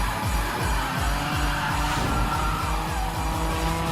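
A car drifts with sustained tire squeal and skidding, engine droning beneath, loud and steady across the whole stretch, in a scene from Tokyo Drift.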